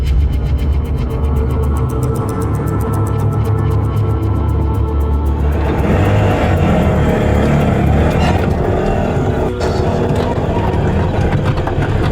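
An auto rickshaw drives along with a loud, constant buzzing engine rumble and road noise, heard close and unbroken throughout, with faint voices in the background.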